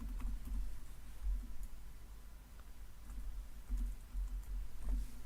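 Soft, quick keystrokes on a computer keyboard while entering data into ERP accounting software, a faint steady patter of clicks over a low room hum, with no voices.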